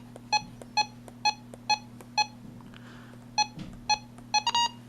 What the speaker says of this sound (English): That's a beautiful button beep sound.